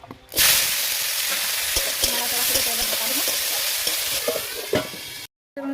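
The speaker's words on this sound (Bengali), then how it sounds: "এরপর আমি হালকা কাল্লাটা একটু ভেজে নেবো" Fish head sizzling in hot oil in a wok, a loud continuous crackling fry with stirring scrapes, steady for about five seconds before cutting off briefly.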